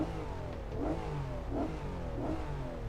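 The Honda NSX in Assetto Corsa revs at a steady mid-pitched engine tone, rising in three regular swells about every 0.7 seconds. The sound is moderately quiet and close, with no voices.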